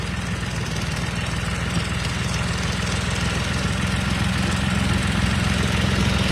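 A farm tractor idles with a steady low rumble and fine rapid throb, loud and close, holding an even drone throughout with no voices.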